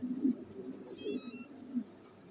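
A racing pigeon arriving at its home loft during a derby race, with soft low cooing and a faint flutter close by, steady over quiet background.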